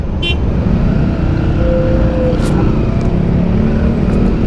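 Traffic jam heard from a Yamaha WR 155 motorcycle, a dense rumble of idling and creeping engines with wind and road noise, a short horn-like tone in the middle and scattered faint clicks, loud and close, with a rider talking over it.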